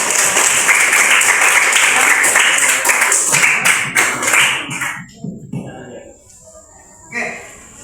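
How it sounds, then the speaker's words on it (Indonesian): Students in an athletics class on the long jump clap for a classmate, a dense burst of applause that thins into scattered claps before trailing off, with voices heard afterward. "kasih tepuk tangan untuk temannya yang memberi"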